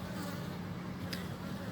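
A swarm of wild Apis cerana bees buzzes in a continuous, dense drone, fairly faint and steady, with no one talking.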